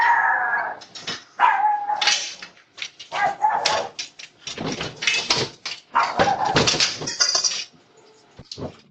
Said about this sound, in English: With a dog barking nearby